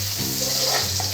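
Chopped onion sizzling in a hot pan with garlic for a spaghetti sauce, a steady close frying hiss with a low stirring rumble underneath, no voices.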